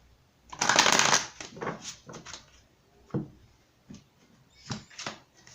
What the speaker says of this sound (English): I'm going to give this one more shuffle.